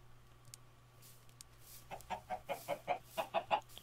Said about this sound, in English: So you're telling me there's like a buttload of chickens